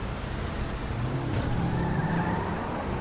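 Vintage car engine in the video game GTA 5 runs steadily, a dense low rumble with a slight rise in pitch, close and loud throughout.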